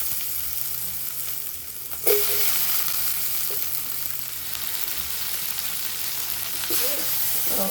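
Masala with salt sizzles and fries steadily in a pan for a dried fish curry, a continuous close crackle with occasional stirring scrapes and small clanks of a utensil against the pan.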